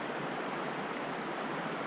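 The River Dart flows in early autumn woodland as an even, unbroken rush of water, steady and close, with nothing else standing out.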